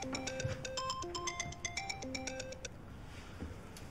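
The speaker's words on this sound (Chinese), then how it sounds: "电话。" A phone ringtone plays a bright, repeating electronic melody of quick notes for about two and a half seconds, then cuts off, leaving quiet room tone.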